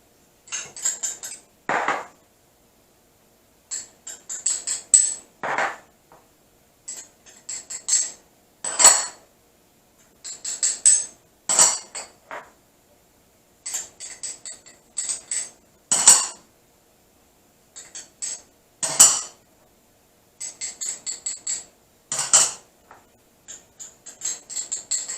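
Spices for a steak dry rub being mixed in a big bowl, with repeated clinking and scraping of a utensil against the bowl in short irregular bursts separated by brief pauses.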